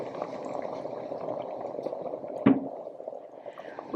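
A pot of homemade dinner simmers with a soft, steady bubbling burble, fairly faint and close, interrupted by one brief clink near the end.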